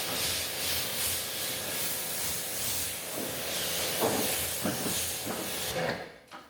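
A steady hissing spray of water rinses soap off a ceramic-coated car panel, continuous and fairly close, with a few brief knocks partway through before the spray cuts off near the end.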